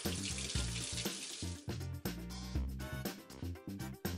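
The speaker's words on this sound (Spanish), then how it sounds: "vamos a pasar el bonito otra vez por agua bien fría" Cold tap water runs and splashes in a kitchen sink as salt-cured bonito fish is rinsed under it, a close, loud, uneven gush broken by brief handling pauses, with no talking.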